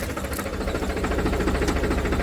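A tractor engine idles close by with a steady low rumble and a rapid, even knocking pulse that holds constant loudness throughout, with no voices over it.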